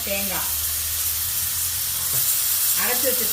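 A potato and cauliflower curry with coconut milk simmers in a pan, giving a close, steady hiss and bubbling sizzle, with brief bits of a voice talking at the start and end.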